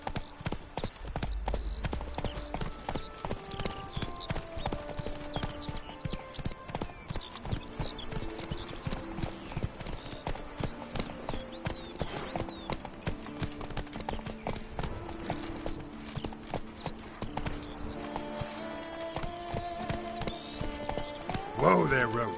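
Roach, Geralt's horse in The Witcher 3: Blood and Wine, clip-clops steadily on the ground throughout, a brisk rhythmic hoofbeat under game music with occasional voices.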